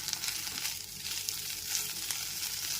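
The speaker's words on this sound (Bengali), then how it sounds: "আদা রসুন বাটাটা পেঁয়াজের সাথে খুব ভালো করে কষিয়ে নিচ্ছি" Ginger garlic paste frying with onions in a pan over a low flame, a constant close sizzle with faint stirring touches and no talking.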